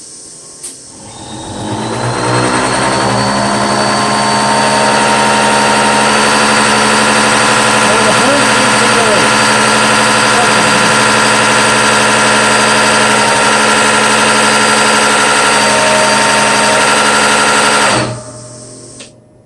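Diesel engine with a loud Bosch CPN5 high-pressure fuel pump idling at 800 RPM, a sustained buzzing mechanical whine with a steady tone that starts abruptly, holds loud and even for about sixteen seconds, then cuts off.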